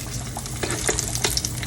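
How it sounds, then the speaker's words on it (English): Chicken croquettes sizzle and crackle as they fry in oil in a skillet, with a steady close hiss and scattered pops and no voices. "you want to hear that sizzle when you put them in"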